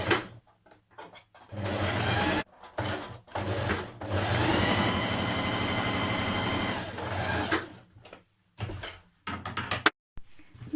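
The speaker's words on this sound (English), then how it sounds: "you're going to stay stitch around your back neck edge on each side" A domestic sewing machine stay stitches along the back neck edge of a dress pattern piece, a line just inside the fabric edge, running in several bursts, one long steady run in the middle and short stops and starts around it, close up and alone.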